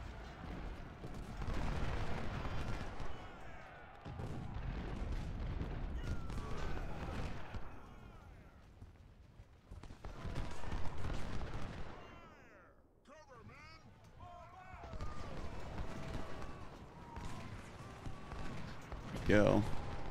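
Musket volleys crackle and rumble across a Civil War battlefield at First Bull Run in Ultimate General: Civil War, dense bursts of massed fire in waves with brief lulls, under someone talking over the action.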